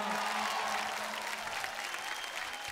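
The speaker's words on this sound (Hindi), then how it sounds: "जोरदार तालियां" Loud, dense applause from a crowd, steady clapping filling the whole stretch without pause.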